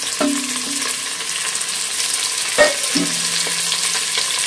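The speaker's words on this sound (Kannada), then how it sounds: "ಇವಾಗ ಇದನ್ನ ಫ್ರೈ ಮಾಡ್ಕೋಬೇಕು." Sliced onions frying in hot oil in a pan for a home-made pulao, a steady broadband sizzle with a few stirring clatters and a sharp utensil knock near the middle, no voices.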